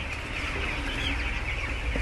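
A crowd of hens on a Kerala poultry farm clucks in a steady, dense murmur, many birds at once nearby, with occasional rustling and flutters.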